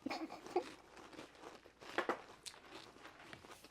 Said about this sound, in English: I know y'all can hear us crunching